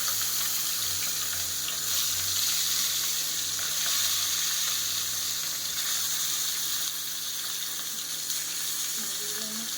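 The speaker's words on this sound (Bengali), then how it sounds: "তেলটা গরম হয়ে গেছে, মাছগুলো একটা একটা করে দিয়ে দেবো" Loud, continuous sizzling of fish pieces frying in hot oil, a steady crackling hiss with no voices.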